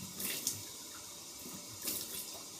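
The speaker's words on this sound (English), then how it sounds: "I'll put some water on my face." A bathroom tap runs at a sink during a shave, a quiet, close trickle of water with a couple of brief louder splashes as hands dip under the stream.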